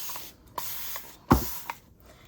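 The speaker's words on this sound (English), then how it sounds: "get it wetter, and add some sprays to it" A spray bottle mists liquid onto wet paper for collage, giving several short hissing spritzes, one markedly stronger burst in the middle, close by and with no talking.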